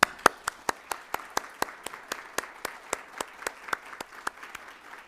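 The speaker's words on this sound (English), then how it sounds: "Please join me in giving her a very warm round of applause." Applause at a workforce summit for a minister joining virtually, heard as a thin, sparse clapping with distinct, fairly regular individual claps, as if only a few people are clapping, moderately loud and alone.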